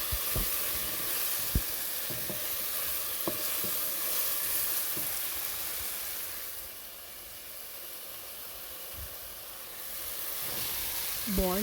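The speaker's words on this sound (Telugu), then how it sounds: "అండ్ కాకరకాయ ముక్కలు కూడా వేసుకోవాలి దాంతోపాటు." Boiled, squeezed bitter gourd pieces frying with ground spice powder in a pan, a steady close sizzle and hiss that dips briefly in the middle and returns, broken by occasional clicks of stirring.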